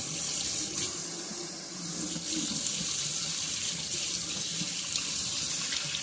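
Water runs steadily from a tap into a sink, a continuous close splashing stream with no voices.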